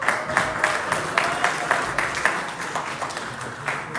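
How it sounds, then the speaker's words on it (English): A crowd at a bureau inauguration applauding steadily, a dense patter of many hands clapping at moderate volume throughout. "I think he deserves a round of applause"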